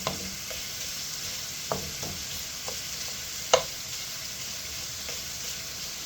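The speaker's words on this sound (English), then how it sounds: "Once we get a decent amount of fat rendered out, we're going to keep the heat going pretty high here" Fat rendering in a hot pan for bucatini amatriciana, a steady close sizzle with occasional sharp pops and stirring clinks, no talk.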